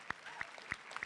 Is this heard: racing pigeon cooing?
no